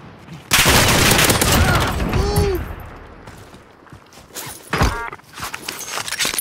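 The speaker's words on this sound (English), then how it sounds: "am I getting sniped, dude?" Sniper gunfire in Call of Duty Warzone comes as loud sharp cracks with a noisy burst of shots, then quieter echoing reports a few seconds later, with faint footsteps and movement between them.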